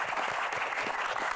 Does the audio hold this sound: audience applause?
yes